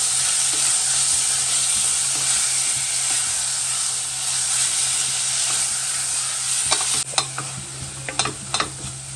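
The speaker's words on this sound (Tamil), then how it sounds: "இதையும் போட்டு நல்லா வெங்காயத்தோடு சேர்த்து நல்லா வணக்கிக்கலாம்." Minced mutton sizzling steadily in a hot pan with onions, a dense frying hiss with a few sharp scrapes and stirring clinks near the end.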